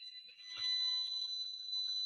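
A radiation meter emits a thin, steady high-pitched electronic tone as it picks up a cell tower signal indoors, faint and continuous with a brief soft tick near the start.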